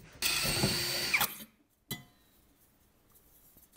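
A power drill bores a small pilot hole into metal sheet, one loud steady burst of about a second that ends abruptly, then a short clink and quiet workshop background.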